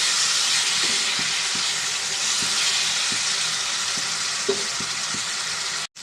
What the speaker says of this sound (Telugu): మనం దీంట్లో రెండు టమాటాలు వేసుకుందామండి ఇవి కూడా కొంచెం ఫ్రై అవ్వాలండి